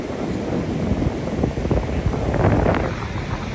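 Strong gusting wind buffets the microphone on a beach during hurricane winds, a loud continuous low roar with rushing surf-like texture and no talking.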